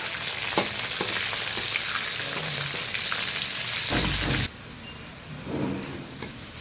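Bay leaves frying in hot oil, a loud, close crackling sizzle with a couple of sharp pops that cuts off abruptly, leaving a quieter background with a faint rustle.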